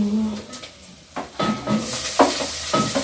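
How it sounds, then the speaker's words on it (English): Chopped onion and tomatoes cook in a hot pan for a breakfast dish, giving a steady sizzle broken by several scraping stirs and clatters close by. "My onion is already cooking here, so I have to be fast and add my tomatoes."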